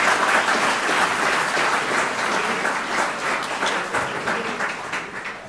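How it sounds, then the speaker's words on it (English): An audience at an aviation seminar applauds, a dense and sustained burst of many hands clapping that holds steady and then tapers slightly toward the end. "Please, applause."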